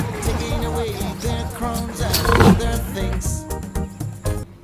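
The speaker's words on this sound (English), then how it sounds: "L for lion." A lion's roar comes in loud and rough, swelling to a peak about halfway through before it breaks off, with music or other sound effects layered around it.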